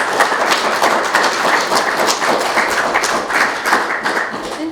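An audience gives sustained, dense applause after a performance at a 100th anniversary celebration of the Iowa flag, many hands clapping loudly and evenly throughout.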